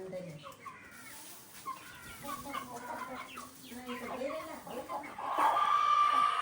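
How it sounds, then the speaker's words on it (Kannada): Chickens cluck and call nearby while a person talks over them. "ಆಮೇಲೆ ನೋಡ್ರಿ ಕೋಳಿಗಳು ಬಂದವ"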